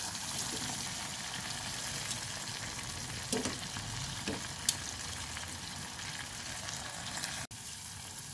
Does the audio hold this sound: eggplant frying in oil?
yes